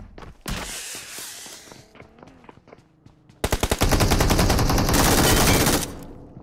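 Gunfire in PUBG Mobile, a battle royale shooter: a few scattered single shots, then a loud, sustained burst of rapid automatic fire that rattles on for about two seconds before cutting off.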